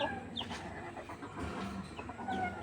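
Wild labuyo junglefowl clucking inside its cage, a few soft, close calls scattered across steady background noise with no voices.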